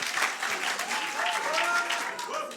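An audience applauds a speaker with steady, moderately loud clapping, a mix of many hands with a few faint voices underneath.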